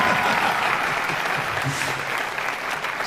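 An audience at a university jazz ensemble concert breaks into dense, sustained applause, a full steady wash of many hands clapping.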